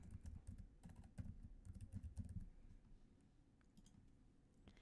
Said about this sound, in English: we'll just simply type flow management and click search